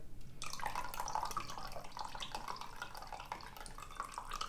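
White wine vinegar pours in a steady liquid stream into a container of water for a quick pickling brine, a continuous close splashing trickle with no talking.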